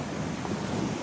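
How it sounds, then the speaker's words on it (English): Big ocean surf churning against the shore, a continuous loud broadband roar with heavy wind noise buffeting the microphone throughout. "The ocean's angry today."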